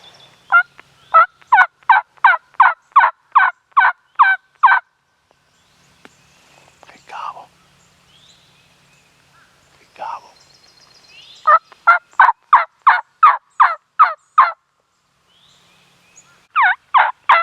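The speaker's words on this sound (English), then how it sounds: "this turkey had actually been answering" An Eastern wild turkey gobbles in repeated fast bursts during a South Carolina spring hunt, loud rhythmic runs of calls separated by quiet stretches with faint rustling and soft whispering.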